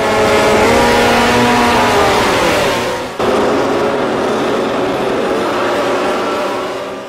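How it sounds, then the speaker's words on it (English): Valentino Rossi's racing motorcycle holds its revs steady at about midway on the grid before a race start, a loud, close engine drone that dips briefly then resumes and fades slightly at the end. "Bringing the revs up to about midway for the start, some racers blip the throttle."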